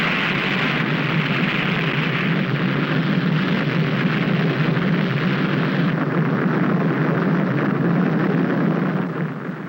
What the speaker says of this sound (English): As the missile hurtles through space,